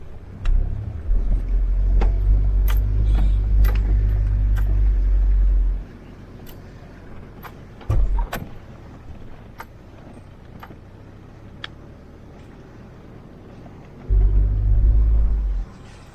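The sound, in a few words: truck on a mountain road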